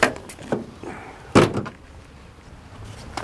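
A Chevrolet Blazer's car door opens with a few clunks and latch clicks, including one sharp louder knock midway, close by against a quiet background.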